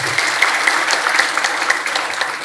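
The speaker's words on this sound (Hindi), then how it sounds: "एक ताली बजा दो" Crowd at an outdoor village public meeting in Yamuna Nagar claps together, a brief dense burst of applause heard alone.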